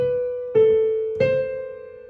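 Three sustained piano notes struck about half a second apart with the sustain pedal held down, each ringing on and overlapping the others as they slowly fade, with no voices.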